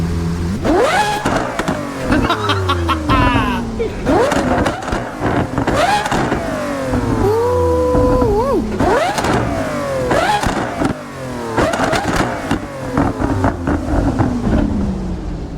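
A Porsche Carrera GT's engine revs hard again and again: loud, close, rising and falling wails with sharp pitch sweeps, some sustained high-rev passages, and brief pauses between the blips.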